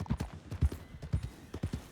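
Wild horses' hooves clip-clop in a steady, uneven rhythm of roughly a dozen soft, low thuds, moderately close and with no talking over them.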